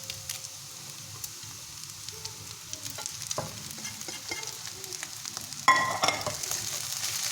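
Quiet sizzling in a pan and light stirring clicks give way to a sudden louder burst of frying as rice for Kenyan fried rice hits the hot pan, then it crackles on steadily.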